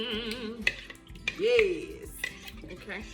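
Marinade ingredients, including toasted sesame oil, are stirred together in a bowl for BBQ short ribs, with a few sharp utensil clinks and scraping close by over a tonal background hum.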